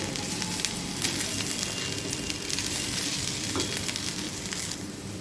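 Vegetable fried rice being stirred in a pan, a steady close sizzle with light scraping of the spatula running through, no voices over it.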